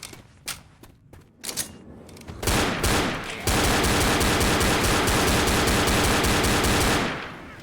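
Gunfire in the video game Left 4 Dead: scattered gunshots build into loud, continuous automatic fire that rattles on for several seconds before trailing off, with no voices.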